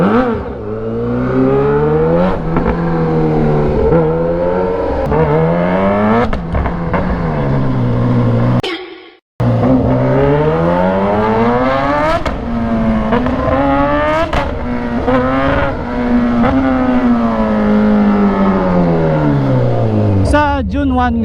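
A Kawasaki Z H2 motorcycle engine runs close by and is revved repeatedly, its loud drone rising and falling in pitch through most of the stretch, with a brief drop-out partway and a voice talking over it.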